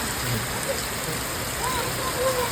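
Heavy rain pours down in a steady, dense hiss that fills the space close by, a torrential downpour with no breaks.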